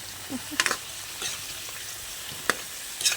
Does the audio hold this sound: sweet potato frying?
yes